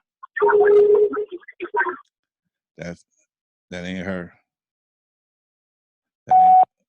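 Telephone call going through to voicemail: short electronic ringback and dial tones in separated bursts, ending with a sustained beep, with a brief spoken phrase near the start.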